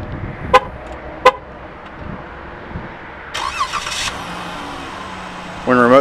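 A 2015 Chrysler Town & Country Touring L minivan gives two short, sharp horn toots as its remote start engages, followed by the engine starting and settling into a steady idle, with a louder burst near the end.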